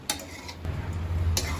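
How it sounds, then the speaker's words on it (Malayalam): A spoon stirs pulao rice with ghee in a pot, a few sharp metallic taps and clinks over a low background hum, with no voices. "വീണ്ടും ശരിക്കും മിക്സ് ചെയ്യണം അല്ലേ?"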